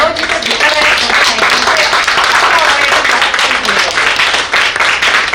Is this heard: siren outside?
no